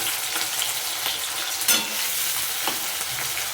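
New potatoes and capsicum fry in a pan with a continuous close sizzle, while a spatula scrapes and turns them in several soft strokes.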